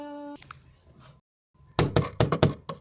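Several sharp knocks hit a door in quick, uneven bursts, loud and close, after a brief quiet stretch and some faint earlier sounds.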